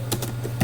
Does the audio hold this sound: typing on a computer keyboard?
yes